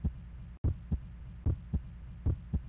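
Heartbeat sound effect from the Stunt Island video game: a slow, muffled, low thumping pulse of paired beats repeating steadily, faint and alone with no talk.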